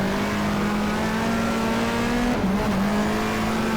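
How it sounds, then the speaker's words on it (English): Phoenix Motorsport Peugeot race car in the GTR2 racing game at Eastern Creek, 1994 Australian Manufacturers Championship, its engine droning loud and steady at high revs, pitch dipping briefly as it lifts and shifts before climbing again. "Driving the Phoenix Motorsport Peugeot."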